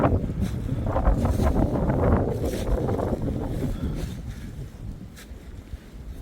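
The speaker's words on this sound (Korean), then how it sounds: "바람 소리가 진짜 장난이 아니야" Strong winter wind at about 1,100 m on a mountain, at minus 16°C, roars and buffets the microphone in gusts, a loud rumbling rush that eases slightly toward the end.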